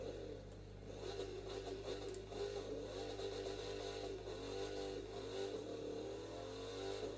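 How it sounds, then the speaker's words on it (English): A supercharged Shelby GT500 in the racing game The Crew 2 holds a steady low engine drone with a mid-range growl that swells and eases slightly, fairly quiet and continuous, with no talk. "I'm going to show y'all how that sounds. They do have a supercharger in them, so it sounds pretty good."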